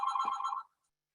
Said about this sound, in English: Sorry for the phone there.